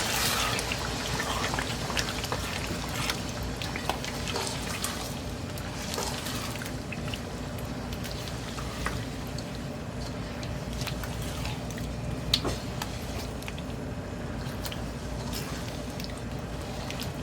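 Chicken being stirred and fried with yogurt in a pot for degi chicken korma: a steady, dense sizzle and crackle with scattered scraping spoon clicks runs continuously without speech.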